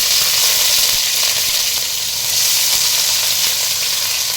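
Two medium-sized chopped onions sizzle in hot oil and ghee for tempering in a Kannada broken wheat bisibele bath recipe, a continuous loud frying hiss close to the pan with no talk.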